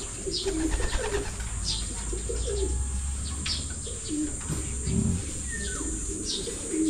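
Pigeons coo softly and repeatedly in a steady low murmur, with occasional chirps and brief wing flutters mixed in.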